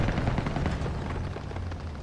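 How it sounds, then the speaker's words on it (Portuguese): Small-arms gunfire from World War II combat in Call of Duty WW2, a steady dense rattle of distant shots and rumble running throughout, with no voices. "Tiros de armas leves."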